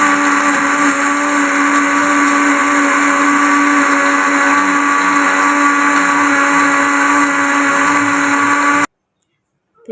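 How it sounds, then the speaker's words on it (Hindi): A kitchen grinder blends a mango milkshake with cream, running as a loud, steady whir for about nine seconds before cutting off abruptly. "अब हम ग्राइंडर को बंद करेंगे और इसे बहुत अच्छे तरीके से हम ग्राइंड कर लेंगे"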